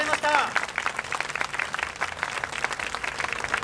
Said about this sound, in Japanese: 今一度皆さんに大きな大きな拍手を送りください